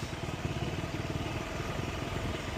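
A motorcycle engine drones steadily with a low, pulsing rumble as it rides down off an overpass, with no voices over it.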